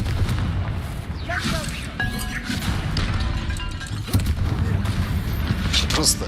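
An explosion spell is cast in a video game, giving loud crashing blasts and booms over a dense, noisy game soundtrack. Voices speak over the action.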